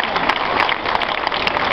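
A crowd claps steadily and loudly throughout, dense applause with no pauses and no talking.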